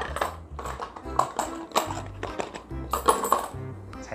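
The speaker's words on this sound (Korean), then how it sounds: "이 종이컵 안에 딸랑딸랑 소리가 날 수 있게 동전을 넣어 볼 거예요" Coins drop into a paper cup, giving several light metallic clinks and pings in quick irregular bursts over soft background sound.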